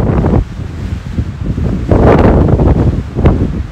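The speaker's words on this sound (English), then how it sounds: "the wind is blowing, but looks like it's about ready to pick up" Strong wind blows outdoors on the Pacific Crest Trail, loud buffeting gusts roaring against the microphone in rising and falling surges, with no voices.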